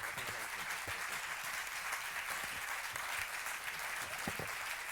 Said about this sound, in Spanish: Yo les pediría un fuerte aplauso.